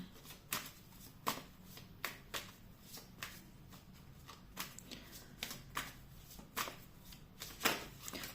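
Tarot cards are shuffled in a steady series of crisp riffling bursts, close and fairly quiet, with no one speaking.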